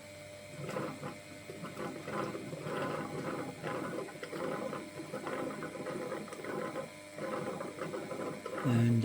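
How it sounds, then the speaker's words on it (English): A Roborock Qrevo Edge 2 Pro robot mop whirs and clicks with mechanical rattling and gurgling as it empties its water tank, steady and close, ending with a louder hum. "And that sounds like it's emptying the water tank."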